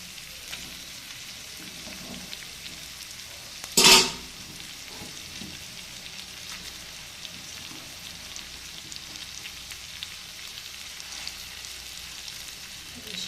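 Coconut paste hits hot oil in a pan for a prawn curry, giving one brief sharp sizzle burst followed by a quieter steady frying hiss, with no talking.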